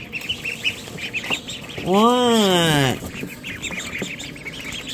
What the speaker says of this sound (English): Them ducks are pissed.